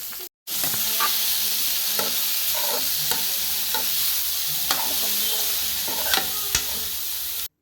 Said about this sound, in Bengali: তেলের মধ্যে দেওয়া হলো বিউলির ডাল আর শুকনো লঙ্কা